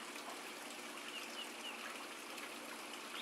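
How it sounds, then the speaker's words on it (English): Water trickling and flowing through the plumbing of an aquaponics grow bed system, a faint, steady wash that continues evenly throughout without pauses or voices. "set the timer to manually run water in all 4 of these so that we've got some water flow coming through the system"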